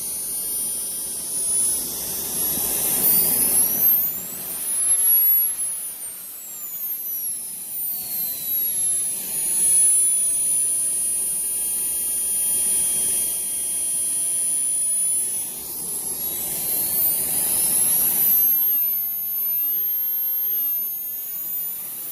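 JetCat P120 kerosene model jet turbine engine running at idle: a loud, steady high-pitched turbine whine with a rushing exhaust roar that swells and eases slightly in places, heard alone with no talking.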